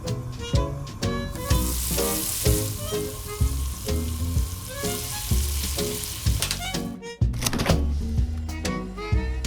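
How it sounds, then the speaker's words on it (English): Rolled-out dough fries in hot oil, giving a loud, steady sizzle and crackle close up, punctuated by repeated knocks and clanks of utensils, with no talking. "Take the dough to fry."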